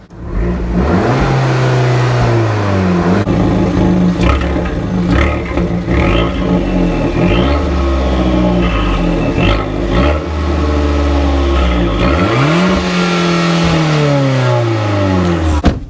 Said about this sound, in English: I want you to appreciate how good this little Record exhaust, which is a standard exhaust on this F595, sounds.